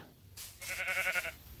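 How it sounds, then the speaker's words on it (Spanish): A sheep bleats once in Minecraft, a short wavering call that is fairly quiet and heard alone. "¡Una oveja!"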